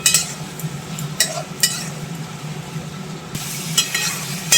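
Squash and potato frying with spices in oil, a low steady sizzle broken by short bursts of spatula scraping and stirring, close and moderately loud.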